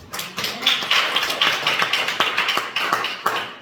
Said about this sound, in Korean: 은혜로운 말씀 전하신 목사님께 박수 한번 쳐드립니다.